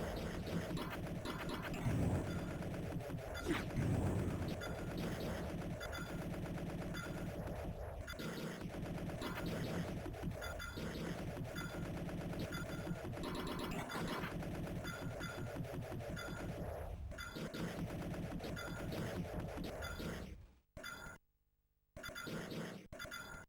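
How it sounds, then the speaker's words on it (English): Big chunky bullets fire continuously in an Amiga public domain shoot-'em-up, a steady, fairly quiet stream of repeated shots with no voices, cut by a short silent gap near the end. "Fire your big chunky bullets at them."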